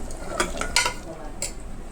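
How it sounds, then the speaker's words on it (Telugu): Coriander powder and garam masala are stirred into a mutton curry with drumsticks, giving a few soft scraping strokes of a spoon against the pot over a low sizzle, close by and fairly quiet. "ఈ ధనియాల పొడి, గరం మసాలా కూడా వేసుకోండి. వేసుకొని ఒకసారి కలిపేసుకోండి."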